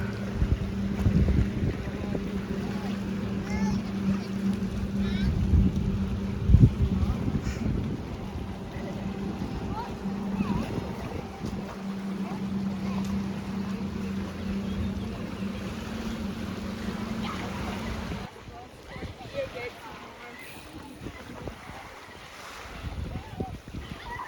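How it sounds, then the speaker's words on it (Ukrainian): A water taxi boat motors across the sea, its engine a low drone mixed with wind buffeting the microphone and water noise. The engine fades away near the end, leaving softer wind and water. "водне таксі"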